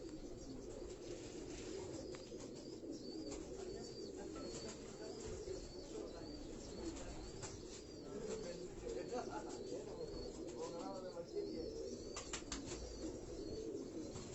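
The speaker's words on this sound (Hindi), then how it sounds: "ये मेरठ इंडिया से आए हुए ये कबूतर हैं दोस्तों" Meerut pigeons kept in a loft cooing softly amid a low, busy background hum, with occasional chirps and a brief wing flutter, faint and somewhat distant.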